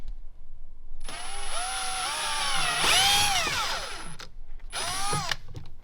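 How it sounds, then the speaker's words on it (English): A power drill bores holes for a RAVEK Speakeasy turn signal kit on an HD11 motorcycle, with a long close whining run followed by a shorter second burst and no talking. "I drill right from there, right into the back side here."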